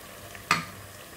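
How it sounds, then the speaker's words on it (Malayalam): Rabbit meat fries in a pan and gets one quick stir with turmeric powder, a single short scrape over a faint background sizzle. "മഞ്ഞൾപ്പൊടി ഇട്ടു നന്നായി ഇളക്കി."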